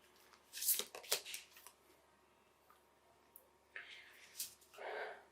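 Tarot cards are drawn and handled from a deck, with a few soft, close riffles and flicks that come in short bursts separated by quiet pauses.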